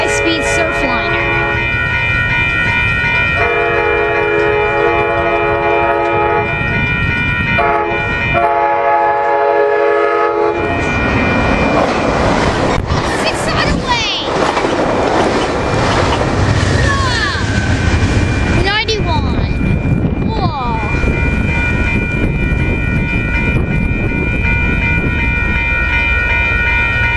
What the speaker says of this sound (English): here comes the high-speed surf liner.